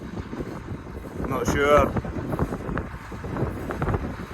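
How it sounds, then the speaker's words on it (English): Wind buffeting a microphone outdoors on a farm during first-cut silage, a rough, uneven low rumble with gusts swelling midway, under someone talking. "it's a tad windy, so apologies"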